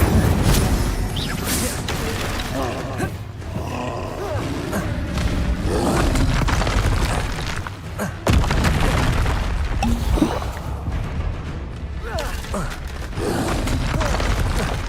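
Bombarda explosion spells in the video game Hogwarts Legacy, loud booming blasts and rumbling roars layered with mechanical clatter and game effects, continuous and dense.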